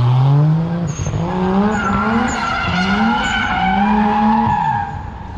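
A drift-school student car slides through a continuous loud tire skid, the engine revving in rising and falling sweeps as it holds the slide, close and steady throughout.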